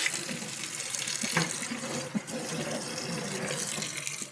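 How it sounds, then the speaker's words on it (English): Tap water runs steadily and hisses into a sink over frozen food, with a faint knock partway through, and no voices. "Run this under hot water and that will defrost it gently"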